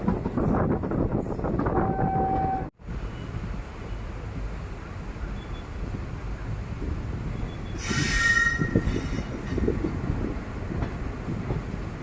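A passenger train rolls between Sengottai and Tenkasi past mango orchards, wheels rumbling steadily with faint squeals, a sharp brief drop in noise, then a brighter stretch of rail screech near the end.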